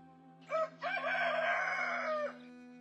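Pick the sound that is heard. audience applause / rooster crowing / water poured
rooster crowing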